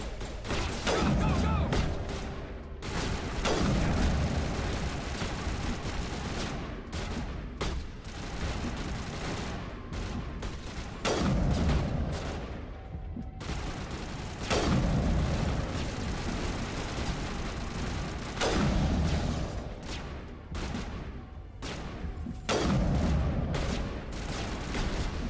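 Bursts of gunfire in Mass Effect come in repeated heavy volleys every few seconds, loud and close, with ringing decay between them.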